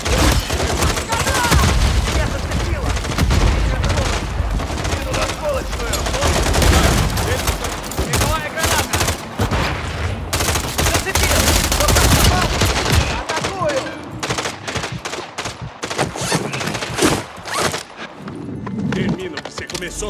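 Dense gunfire from Call of Duty: Modern Warfare 3 rattles almost without a break, with heavy bursts and booms packed into the first thirteen seconds and then thinning into sparser, separate shots.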